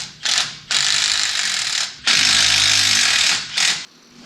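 Power drilling and tapping of bolt holes for a new bumper mount on a Toyota FJ45 rock crawler, with several long, loud bursts of harsh mechanical whirring split by short pauses. Up close, with no talking.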